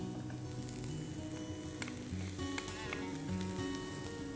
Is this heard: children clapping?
no